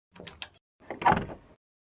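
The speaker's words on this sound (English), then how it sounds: "Bear unshuttered and unboarded the windows, unlocked the door" A door is unlocked and opened in two bursts: a short rattle of latch and lock, a brief pause, then a louder, closer creak and swing that dies away.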